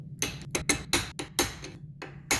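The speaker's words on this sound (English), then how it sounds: "get a punch that's appropriate and a hammer, and then just work your way around" A hammer strikes a punch to drive a driveshaft hanger support bearing on a Pontiac G8, a series of sharp, close metallic taps in an uneven rhythm, about ten hits in quick succession.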